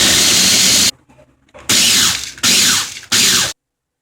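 Cracker crumbs for a cheesecake crust being ground in loud bursts of whirring machine grinding, four pulses of roughly half a second to a second each, separated by short pauses and ending abruptly.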